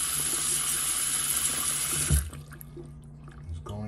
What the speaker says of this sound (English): Running a lot of hot water.